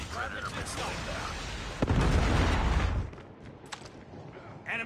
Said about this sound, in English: Friendly predator missile down.